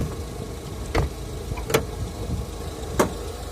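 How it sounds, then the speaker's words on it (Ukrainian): A Fiat Ducato van's 3.0 engine idles with a quiet, steady low hum, broken by a few sharp clicks or taps, heard up close without any talk. "Оце вам як працює моторчик."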